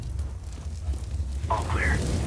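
An incendiary grenade's fire burns in CS:GO, a low, steady roaring rumble with a soft crackle, and a short radio-style voice cuts in near the end.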